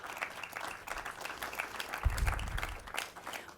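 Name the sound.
audience applause at a groundbreaking ceremony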